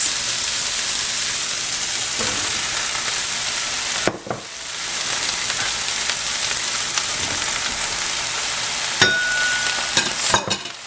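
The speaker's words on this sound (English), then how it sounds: "we're gonna stir constantly and continue to cook for an additional 5 minutes" Yellow and green zucchini fry in a pan for ratatouille, producing a loud, steady sizzle with frequent scraping stirs of a utensil against the pan close by.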